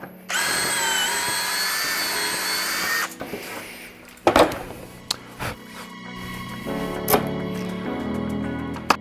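Power drill boring clearance holes through the inside of a DIY compartment organizer rack, a loud steady whine for about three seconds, then short bursts of drilling and tool handling clatter with quieter gaps.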